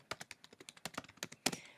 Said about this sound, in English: typing in first name and last name